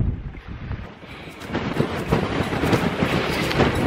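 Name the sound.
strong wind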